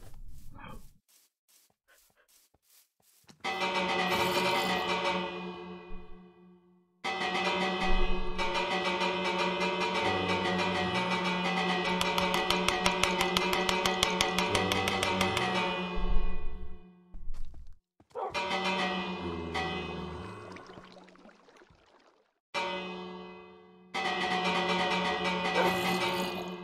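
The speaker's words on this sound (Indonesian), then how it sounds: "Spam lonceng yang lama, oke." A bell in the Minecraft video game is spammed over and over, giving rapid overlapping rings that blur into a sustained, ringing wash. It comes in long bursts with short silent gaps between them.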